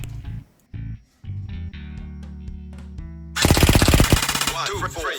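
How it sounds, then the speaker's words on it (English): Arcturus PP19 Vityaz airsoft AEG fires a loud sustained full-auto burst near the end, a fast steady mechanical rattle of roughly 16 rounds per second following quieter intermittent handling noises. "Arcturus PP19 Vityaz is shooting around 16 rounds per second"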